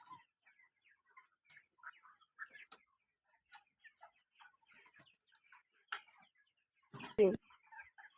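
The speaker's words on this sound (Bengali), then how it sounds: "আমার ব্রয়লার মুরগিগুলো দেখো বন্ধুরা এখন সুন্দর আছে" Broiler chickens on a poultry farm make soft scattered clucks and chirps, fairly faint, over a quiet background with a high steady tone and a louder burst near the end.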